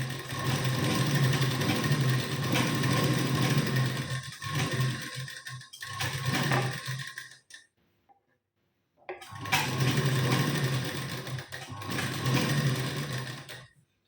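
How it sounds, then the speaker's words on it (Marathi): A sewing machine runs steadily along a blouse neckline, humming loud and close for several seconds. It stops briefly, then starts again and keeps stitching to the end. "अशा पद्धतीने आपल्याला ठेवायचं आणि शिलाई द्यायची सुरुवात करायची"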